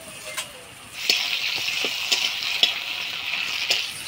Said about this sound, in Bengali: পেঁয়াজ টমেটো ভালো করে নাড়াচাড়া করে নিলাম।